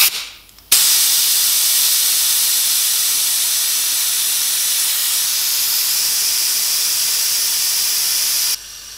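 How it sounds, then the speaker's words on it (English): Compressed air from a 125 psi compressor tank blasts out through the drain in one loud, steady hiss that holds for about eight seconds, then cuts off abruptly, with no talk. "I'm going to drain the air"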